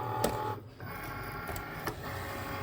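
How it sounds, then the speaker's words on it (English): A Cricut cutting machine whirs as it loads a cutting mat carrying infusible ink sheet, giving a steady mechanical hum with a few brief clicks and thumps, close by and fairly quiet. "So I'm going to load it into my machine"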